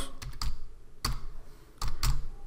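Keys on a computer keyboard being typed in short bursts of close, crisp clicks with brief pauses between, while entering code in a programming lesson.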